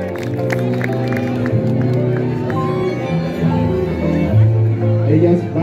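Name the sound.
audience applause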